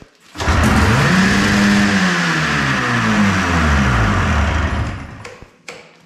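An Arctic Cat JAG 440 snowmobile engine catches and revs hard, its loud two-stroke note rising and wavering for several seconds before dropping off and cutting out abruptly.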